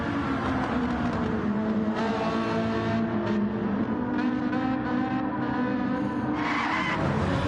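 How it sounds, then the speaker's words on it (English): Race car in a Gran Turismo-style Gr.3 racing game at Goodwood, with a Ferrari 458 in the field, spinning across the track after its right-side tyres touch the grass: continuous loud engine roar with screeching tyre skid throughout. "I suspect he probably got driver's right side tyres on the grass and it spun him across the track"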